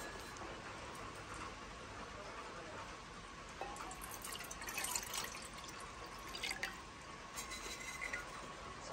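Water pours and drips into a pot on a Trangia stove while cooking ramen, a faint, low-level trickle with scattered drips and a few brighter splashes near the end, no talking over it.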